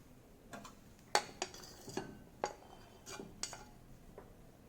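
Chopped bell pepper being tipped into a bowl in a home kitchen: a few sharp clinks and light taps of utensil against dish, spaced irregularly, close and fairly quiet, with no talking.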